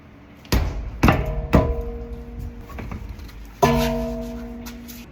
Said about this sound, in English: Here's another place where that hammer comes in handy.